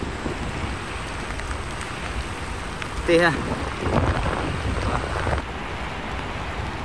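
Heavy rain falls steadily during a long-distance ride, a continuous hiss, with a brief spoken remark in the middle and some rustling movement nearby.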